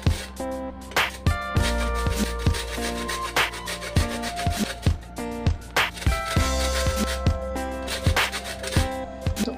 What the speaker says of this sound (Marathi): तर आता मी ह्याच्यामध्ये ऑरेंज झेस्ट घालणार आहे।